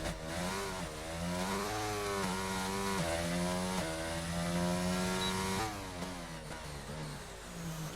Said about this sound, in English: I don't know if the engine sounds are any different at the moment.